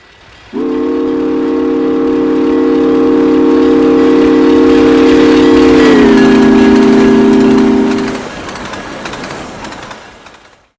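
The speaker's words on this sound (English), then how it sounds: "Now, let's see it handle a lighter passenger train." A steam locomotive pulling a light passenger train sounds a long, steady whistle chord loudly for several seconds, shifting slightly in pitch, before fading into rumbling rail noise.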